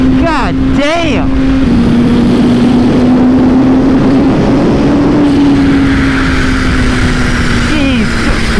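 Kawasaki Ninja H2 motorcycle engine roaring loud and close while riding, a steady high drone with pitch sweeping up at the start as it revs hard, wind rushing throughout.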